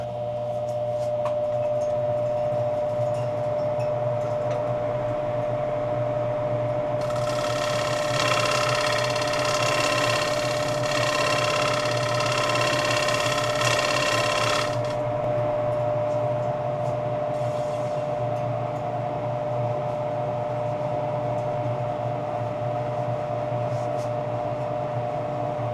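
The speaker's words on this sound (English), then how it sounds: "I turned on the exhaust fan in the window." A window exhaust fan drones steadily the whole time in a woodworking shop with a constant low hum, and a louder broadband whirring swells in the middle.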